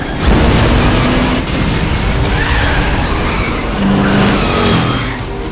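Motorcycle riding through a Metal Gear Solid 4 action scene, loud and sustained engine roar with skidding tire noise and booming impacts mixed in, dense and continuous throughout.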